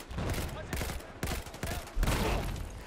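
Dense gunfire from a Battlefield 4 multiplayer Conquest match, with loud repeated shots and bursts packed closely together throughout, under a busy battle din, with talk mixed in.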